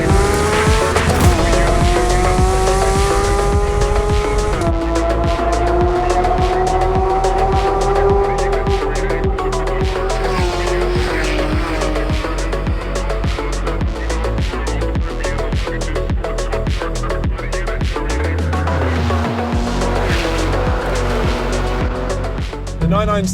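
Porsche GT3 RS engine screaming up toward 9,000 RPM, loud sustained high-pitched wail climbing through gears with brief dips at shifts, heard from inside the car.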